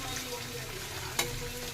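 Dried red chillies fry in hot oil for a Telugu mixed-vegetable pachadi, giving a steady close sizzle and crackle with one sharp tap partway through.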